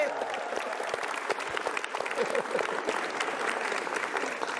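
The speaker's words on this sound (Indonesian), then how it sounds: "Sekali lagi tepuk tangan" An audience at a stand-up comedy show breaks into sustained applause, a dense, even clatter of many hands, with scattered voices faintly underneath.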